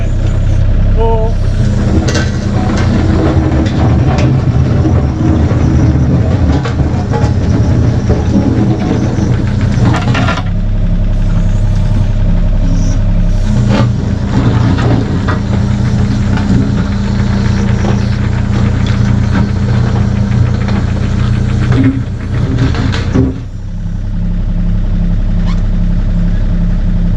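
A construction machine engine runs hard at full power for a long stretch, a loud heavy diesel rumble with shifting load and clanks, then eases to a lower idle near the end.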